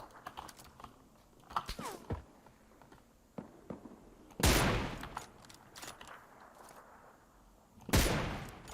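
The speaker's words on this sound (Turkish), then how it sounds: "Adamı gördüm. Ve Kobe Bryant gibi sıktım" Gunfire in the battle royale game PUBG Lite, heard as two loud distinct shots several seconds apart amid light keyboard clicks and small game noises.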